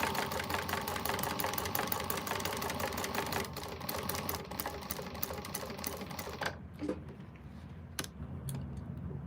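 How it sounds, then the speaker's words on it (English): A sewing machine back stitching a quilted bag: a fast, steady mechanical chatter of needle strokes that runs loud for several seconds, then slows to scattered clicks and brief bursts. "We're going to back stitch here."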